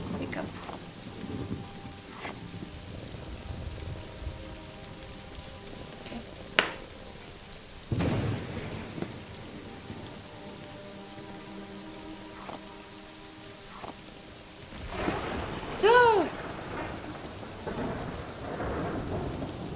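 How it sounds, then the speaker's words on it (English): A thunderstorm in the video game Morrowind: steady rain hisses throughout while thunder rumbles and cracks several times, including a sharp lightning strike, with a low rolling boom near the end. "I was hit by lightning right now, if you were wondering."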